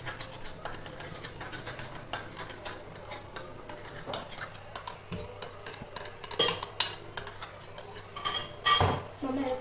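A spoon clinks and scrapes against a bowl while curd is mashed fine for butter chicken, a busy run of close, uneven taps and knocks with faint kitchen sounds behind.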